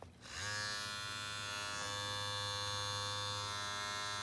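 Kemei 2850 cordless hair clippers switch on and run with a steady, even electric buzz, close by and fairly quiet, with no talking.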